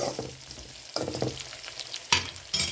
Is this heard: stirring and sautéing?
yes